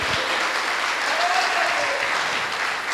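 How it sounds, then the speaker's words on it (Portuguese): A church congregation applauding during a Baptist worship service, with dense, sustained clapping from a large crowd and a faint tonal sound drifting through the middle. "Será que você pode aplaudir o nome do Senhor por isso?"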